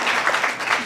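A diaspora audience at an investment forum in Washington DC claps. It is a short, dense burst of applause from many hands, steady and fairly loud throughout.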